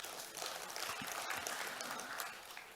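Steady crowd applause at an official Bali provincial government gathering marking two years of Governor Koster's leadership, a dense, even wash of clapping that holds at a constant level throughout.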